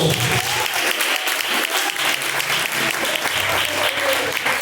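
A church congregation claps in praise during a live worship service, a dense, loud and steady wall of clapping that fills the whole stretch without a break.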